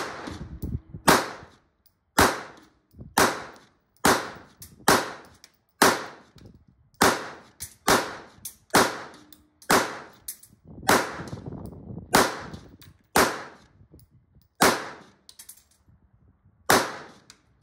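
Fifteen sharp gunshots from a Beretta 92 pistol firing Magtech 9mm steel case ammunition into an outdoor berm, loud and close, spaced about a second apart in a steady rhythm with no talk.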